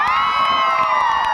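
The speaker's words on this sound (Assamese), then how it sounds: "হাত চাপৰি লাগে" At a school farewell for higher secondary second-year students, a crowd cheers loudly with a sustained, high, ringing shout held over a busy background of voices. No distinct clapping stands out.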